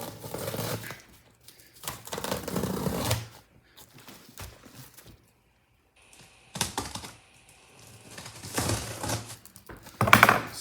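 A blade slices through the tape and cardboard packaging of a NYX-101 box in several bursts of scraping and tearing, with pauses between, close and fairly loud, no one talking.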